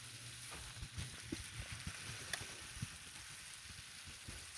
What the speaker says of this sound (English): And just keep gently stirring things around.